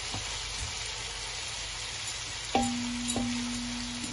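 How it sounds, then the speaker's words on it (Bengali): Onions frying in a pan for lamb chop curry give a steady, moderate sizzle, with a faint tone and light clatter near the end. "তারপর আমি পেঁয়াজ দিলাম"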